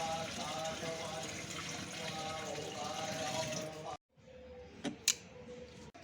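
A wheel-driven agricultural pesticide sprayer pushes liquid through its nozzle, giving a steady watery hiss that stops briefly. A couple of sharp splashy bursts follow, with possible faint talk in the background.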